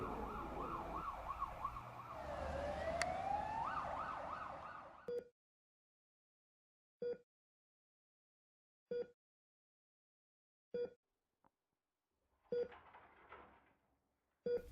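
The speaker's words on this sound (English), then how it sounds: "the sound of the ambulance getting louder" An ambulance siren wails loudly for about five seconds, rising and falling, then cuts off; a few short sharp clicks and faint rustling follow.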